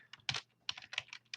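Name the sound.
typing on a computer keyboard to rename a file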